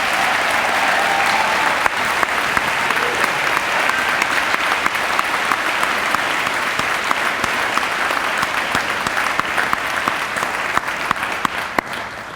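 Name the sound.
audience applause for Teachers of the Year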